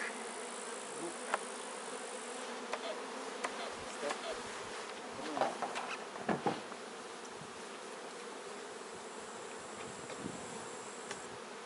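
Honey bees hum around an apiary's hives as colonies are readied for the main honey flow, a steady close buzzing drone with scattered clicks and handling knocks, no voices.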